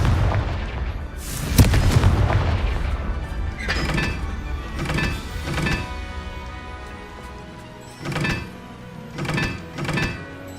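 Confringo fire spells cast in Hogwarts Legacy, a series of booming blasts and crashing impacts, the loudest near the start and several weaker hits following, over a low game ambience.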